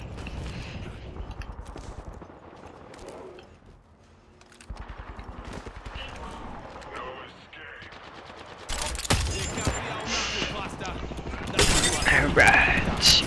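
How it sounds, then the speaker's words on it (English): Gunfire in the video game Apex Legends: bursts of rapid automatic shots and sharp single cracks, some distant and some close and loud, with shattering impacts building toward the end while a player talks intermittently over the action. "I'm hearing a lot of gunshots my direction."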